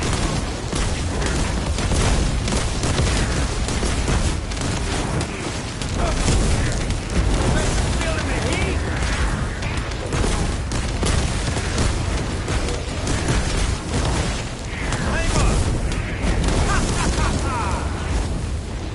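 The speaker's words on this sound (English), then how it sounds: "I just listen for those popping explosions and look for numbers." Constant popping explosions from skill effects in the video game The First Descendant form a dense, loud clatter of bursts and booms that runs unbroken through the whole stretch.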